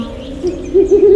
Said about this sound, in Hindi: उल्लू की आवाज़ सुनी और कहा, एक उल्लू बोल रहा है, यह अपशगुन है